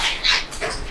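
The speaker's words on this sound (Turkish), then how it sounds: "Etrafta köpek." A dog barks once or twice outside an abandoned hotel at night, a brief, somewhat distant sound in the dark.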